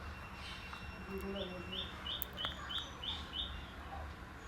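Pigeons kept at a seller's loft call faintly, with a short run of repeated soft chirps over a steady low background hum.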